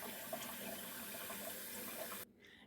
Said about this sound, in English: And I'm just going to run water into this container.